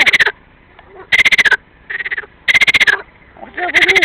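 Frogs in Ukraine croak in loud, rapid pulsing bursts, several overlapping calls alternating in a chorus close by, with no one talking.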